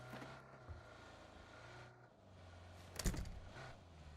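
Video game car engine in a battle royale match, a low hum and rumble that cuts out partway, followed by a brief louder thump and some faint movement noises.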